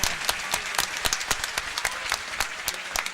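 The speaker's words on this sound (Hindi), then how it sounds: "मैं चाहता हूं एक बार दोनों हाथ उठाकर जोरदार तालियों के साथ स्वामी जी का अभिवादन करें आप।" A large audience at an inauguration ceremony of a yajnashala and gaushala in Mathura applauds to welcome Swami Ramdev, steady loud clapping with sharp individual claps standing out, no voices over it.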